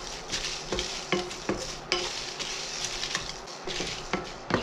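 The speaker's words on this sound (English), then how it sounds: "I am dry roasting this spices" Whole spices for mutton ularthiyathu dry roasted in a pan, with a soft steady rustle and repeated sharp scrapes and clinks of a spatula stirring against the metal, close and moderately quiet.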